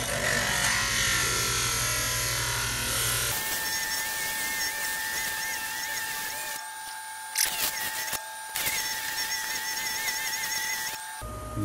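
A motorized polisher works a piece of red calcite stone with a steady, close-up whine and gritty scraping. The sound briefly cuts out and restarts midway, with no talking.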